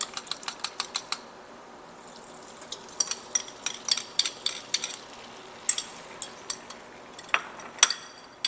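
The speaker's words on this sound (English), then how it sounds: "Make sure you give it another good stir there." A utensil clicks and scrapes against a hot pan while eggs are stirred, the taps coming in quick irregular bursts over a faint steady sizzle, close and fairly quiet.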